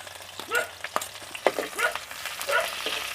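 Bhut jolokia chillies and onions frying in hot oil, a steady close sizzle broken by repeated stirring scrapes and clatters, with no talk.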